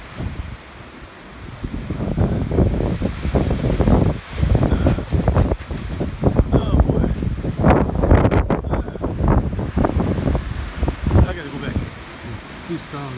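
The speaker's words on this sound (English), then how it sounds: "Too strong of a wind for me." Strong gusty wind buffets the microphone in loud, uneven surges beside a corral with new gate posts, with leaves rustling through the gusts.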